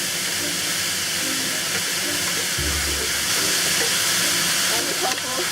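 Cremini mushrooms and tofu sizzle in a hot wok, a loud, steady hiss running the whole time over a low rumble, with no pause.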